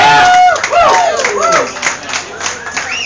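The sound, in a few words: crowd applause at craft beer event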